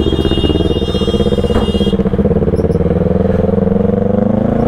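A TVS Apache RR 310 motorcycle on National Highway 8 rides off, its engine note climbing steadily as it pulls away, loud and close with a continuous droning rumble and a squeaky high whine early on.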